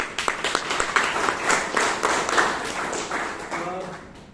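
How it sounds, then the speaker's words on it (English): A small group at a Toastmasters meeting claps in a brief round of applause, the individual claps sparse and distinct, with some voices underneath. "let's give him a round of applause for that"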